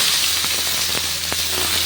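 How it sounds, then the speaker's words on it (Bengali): Jute leaves hit hot oil with dried chilli and chopped garlic, producing a loud, dense, hissing sizzle throughout. A few faint stirring taps are heard underneath the steady crackle, with no talking. "শাকটা দিয়ে দিলাম এরপরে নেড়ে চেড়ে আমি শাকটা ভাজি করে নেব"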